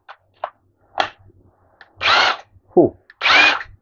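Total TIWLI20851 20V brushless compact impact wrench, several short bursts of whirring motor and hammering, each under a second, close and loud with brief quiet gaps between.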